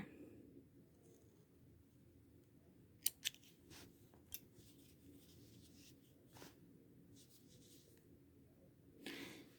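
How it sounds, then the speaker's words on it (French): Scissors snip through knitting yarn in a few quick, sharp cuts, spaced apart and quiet, over a soft steady background rustle. "Et je coupe."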